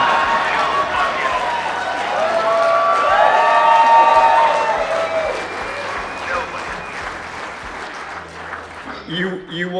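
A crowd at The One Moto Show 2020 cheers and applauds after a Royal Enfield motorcycle giveaway, with loud clapping, whoops and high shouted voices swelling to a peak in the middle, then thinning into scattered claps as people talk nearby.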